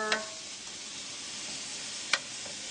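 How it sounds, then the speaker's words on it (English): Steady sizzling of onions frying in oil while making fideo, a soft continuous hiss with a couple of brief sharper crackles or scrapes. "You have to let all of that saute until the onions start to go clear."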